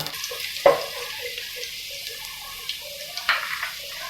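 Cumin seeds and finely chopped garlic sizzle in hot oil, a steady faint crackle with a sharp burst as the garlic hits the pan and a few later pops, no voices.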